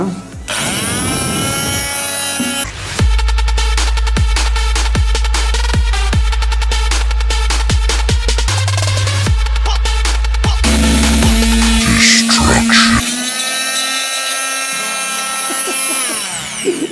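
A small saw slices into a mobile phone on a workbench, a loud, steady buzzing rasp with rapid repeated strokes that runs nearly continuously, its pitch shifting as the blade bites deeper.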